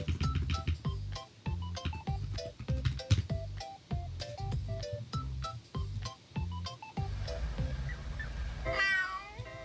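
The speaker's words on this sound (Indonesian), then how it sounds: "Suara Gary meow." A cartoonish cat meows again and again in quick succession, loud and close, with short electronic game-like tones and a brief squeaky flourish near the end, from the video game My Voice Zoo.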